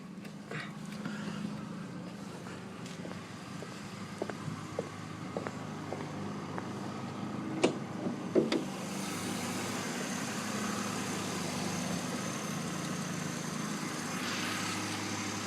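A Mercedes-Benz C350 V6 idles steadily with the hood open, a low even hum in the background, with a few light clicks and taps over it before a broader hiss rises later.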